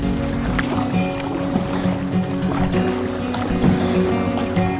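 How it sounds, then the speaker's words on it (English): Paddle strokes of a kayak on a lake near lily pads, with water splashing and dripping in an uneven rhythm. Boat and water noise sit close by with a light wind in the background. "this POV, it's gonna show how bad I am at kayaking"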